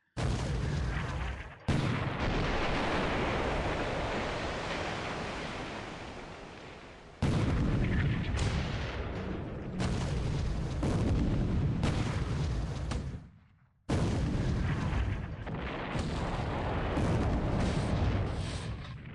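Heavy gunfire in a naval war video game during a PT boat attack, dense sustained roaring bursts of fire that stop abruptly twice before resuming, loud and close with no talk.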